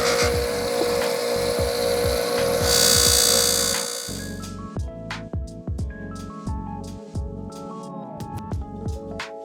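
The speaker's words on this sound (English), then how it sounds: "what we're going to do is polish down the sides, make them nice and shiny" Steady abrasive whirring from a rotary polisher working the sides of a Yamaha Blaster 200 part, then a rhythmic rubbing, scraping pattern with repeated strokes, close and fairly loud.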